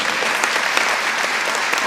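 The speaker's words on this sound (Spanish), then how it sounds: "Denle un aplauso al Señor." Church congregation applauding together, a dense wash of clapping with a few louder individual claps standing out, continuous and fairly close throughout.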